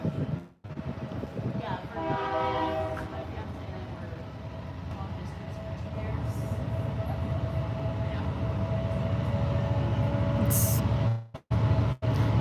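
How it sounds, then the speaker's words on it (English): A train rumbles steadily past nearby, a loud continuous roar with a brief horn blast early on, ending in a sudden cut. "Here comes the train, y'all."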